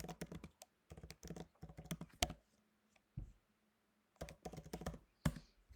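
Command typed on a computer keyboard for a Homebrew task on a Mac: close, crisp key clicks in quick bursts, with short pauses between runs of typing.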